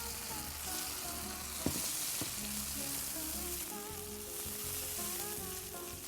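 Tomato puree sizzling in a pan with sautéed garlic and onion, a steady close frying crackle with a few sharp clicks of stirring and no talk.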